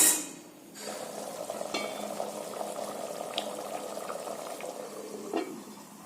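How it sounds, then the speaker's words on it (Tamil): Tomato kuzhambu simmering in a covered pot, starting with a brief hiss, then a steady low bubbling murmur with occasional soft pops and clicks, close and fairly quiet. "மூடி போட்டு மூடிடலாங்க. ஒரு 7 நிமிஷம் வேகட்டுங்க."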